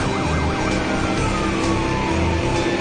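A police car siren wails in a rising and falling pattern inside the Watch Dogs video game, set against a steady roar of engines and traffic noise, loud and continuous throughout.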